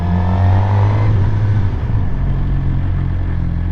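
A Suzuki GSX-R 600 motorcycle slows to a stop, its engine droning loudly and close with a falling pitch that settles into a lower steady rumble.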